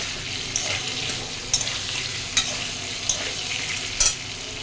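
Potatoes and spices fry in hot oil in a pan, a steady close sizzle punctuated by several sharp stirring scrapes.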